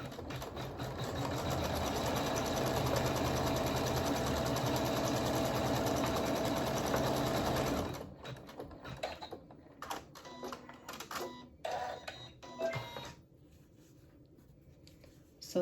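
An embroidery machine stitches a tack down on fabric with a rapid, steady mechanical whirr and patter for about eight seconds, then stops, leaving scattered small clicks and handling noises.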